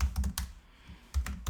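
Several bursts of key clicks from typing code on a computer keyboard for a Python card game, close and fairly quiet, with a short pause in the middle before a final flurry.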